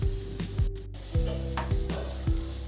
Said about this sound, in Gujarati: આપણા ગાજર ઘીમાં સારી રીતે શેકાઈ ગયા છે।